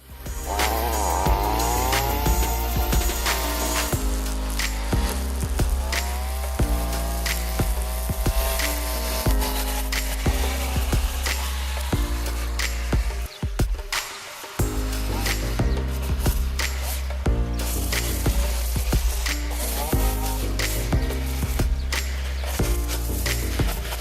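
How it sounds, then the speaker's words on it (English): A weed whacker cuts grass along a garden row with a loud, continuous buzzing engine drone. The motor revs and sags as it works, with one brief dip partway through before the cutting resumes. "I'm going to run down it with the weed whacker"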